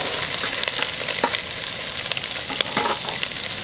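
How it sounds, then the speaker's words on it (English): Diced onion and garlic sizzle steadily in hot oil in a pot where pork hock was browned, a continuous close frying hiss broken by occasional crackles and stirring scrapes, with no talking. "So to this pot, I'm going to add some diced onion and also put the garlic back in."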